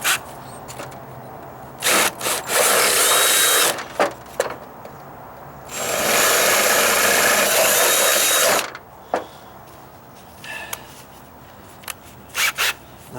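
A power drill bores a 1/4 inch hole in rotted deck wood, with two sustained loud whirring runs broken by brief starts and stops and chuck clicks, close up and without talk.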